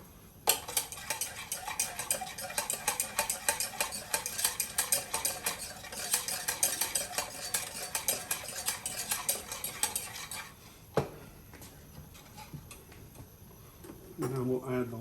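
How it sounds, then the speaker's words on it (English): A spoon stirs sauce in a pan off the heat, scraping and clinking rapidly and evenly for about ten seconds, then stops; a voice speaks briefly near the end. "And then we'll add the lemon juice. Stir it."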